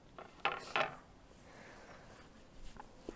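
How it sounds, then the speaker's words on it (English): A spoon clatters when it is nearly dropped while a mini cheesecake is being assembled, two quick, faint metallic clinks close together followed by a soft rattle in a quiet room. "Ooh, almost dropped my spoon"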